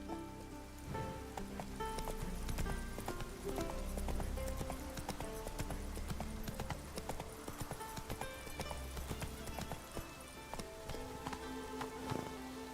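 Roach, Geralt's horse in The Witcher 3, clops along steadily at a brisk pace, hooves thudding under rain and game ambience, with no talk.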